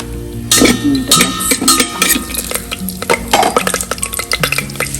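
Garam masala and spices going into hot oil in an Instant Pot, with a spoon stirring and scraping the metal insert, clinking against the pot over a steady sizzle, close and fairly loud.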